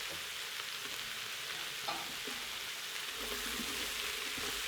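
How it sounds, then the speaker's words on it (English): Onions and mushrooms fry in oil, a dense, even hiss of sizzling that holds steady from start to finish, with a few soft stirring sounds beneath. "I'm gonna go ahead and add a little bit more oil in there. Throw in our onions and our mushrooms."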